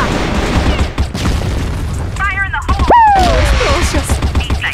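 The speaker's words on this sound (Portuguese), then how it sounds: "Granada!" A grenade going off in a video game: a loud, heavy boom amid ongoing game gunfire and effects, with someone talking over the action.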